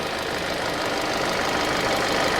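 A Hyundai Sonata engine idles with the air conditioning switched on, a loud, even, continuous drone with a faint rhythmic knock heard up close under the hood.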